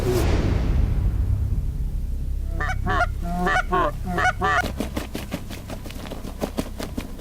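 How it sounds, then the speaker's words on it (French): A flock of snow geese honks in a rapid, overlapping chorus that builds after a rushing whoosh, the calls loud and clear with no talking, in Saskatchewan. "Il y a un voilier d'oie blanche, mais très, très, très, très loin."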